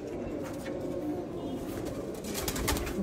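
Pigeons coo softly and continuously in a steady, low murmuring bed, with faint rustling and a few brief higher chirps toward the end.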